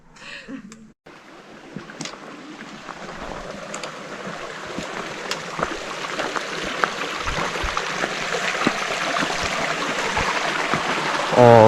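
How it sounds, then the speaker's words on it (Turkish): Steady rushing of river water in Göynük Canyon on the Lycian Way, broad and continuous, growing slightly louder over time, with occasional soft splashes and knocks. "Çünkü su sesi yakından geliyor. Nehirden su içeceğim."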